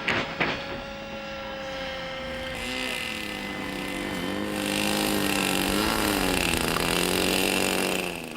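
A small two-stroke model aircraft engine screams at high pitch with a sustained, buzzing whine, its revs wavering up and down as the throttle shifts, loud and close throughout.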